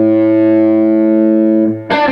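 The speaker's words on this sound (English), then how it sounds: "So you're doing a simple 3-note phrase." Electric guitar with a hard-picked, distorted tone playing a short pentatonic phrase: a sustained, ringing note holds for most of the clip, then changes briefly before a sharp, bright pick attack at the end.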